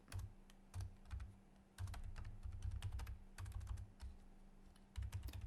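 Soft, close keystrokes on a computer keyboard, irregular bursts of clicks typing a word in English over a low steady hum, with short pauses between clusters.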